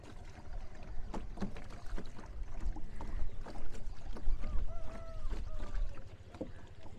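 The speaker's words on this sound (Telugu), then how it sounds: "చిన్న తెప్ప తీసుకొని ఇక్కడికి వెళ్తున్నాం అనమాట" A small raft is rowed across water, with continuous splashing and paddle strokes under steady wind noise, close and fairly loud throughout.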